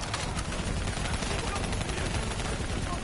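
Gunfire in a video game, a loud, unbroken rapid rattle of automatic shots filling the whole short stretch.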